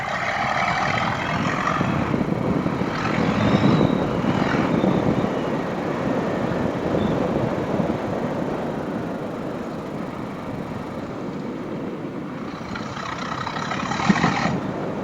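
A 2025 Honda CRF 450RL dirt bike with revalved suspension and stock springs rides over gravel, its engine droning steadily under a broad, rushing rumble of tyres and wind that swells and eases.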